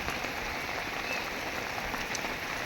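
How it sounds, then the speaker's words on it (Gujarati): Steady rain falls on a farm field, an even, continuous hiss of drops on surfaces with no talking. "વરસાદ ચાલુ થઈ ગયો છે"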